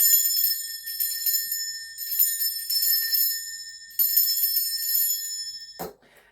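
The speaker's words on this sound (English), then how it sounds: "I'm going to be ringing a bell just to cleanse the space around us." A bell is rung to cleanse the space during a spiritual healing session, struck several times with bright, shimmering tones that ring on between strikes and then cut off, heard alone.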